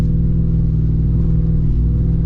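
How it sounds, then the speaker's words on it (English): A Jeep Wrangler 392 AEV with a V8 rumbles close and loud through its exhaust while driving, a deep, steady throbbing engine note heard from inside the cabin. "Let me roll down the windows so you can hear a little bit more of that. The exhaust in this thing is so good."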